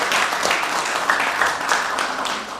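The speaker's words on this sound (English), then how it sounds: "Just give yourselves a big round of applause." An evening live-event audience gives a sustained round of applause, a dense, even wash of many hands clapping close by with no voices standing out.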